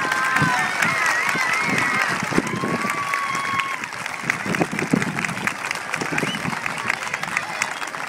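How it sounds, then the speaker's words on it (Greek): An audience claps at a 5th-grade primary school celebration: dense, steady applause holds throughout at full strength, with crowd noise and a few voices mixed in. "θέλω να χειροκροτήσετε αυτή που εμπνεύστηκε το θέμα"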